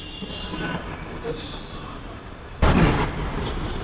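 Hyderabad metro train running, a steady broadband rumble and rail noise throughout, swelling louder near the end as the car moves, with no talk.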